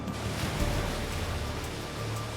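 Rough open-sea waves give a loud, dense, unbroken wash of surf noise with a low rumble, close and steady and free of voices.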